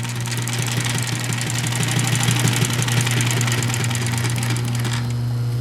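A Pfaff 145-H4 compound-feed walking foot sewing machine runs slowly and steadily, giving a loud, close mechanical hum with rapid rhythmic needle ticking. The stitching stops just before the end and nobody speaks.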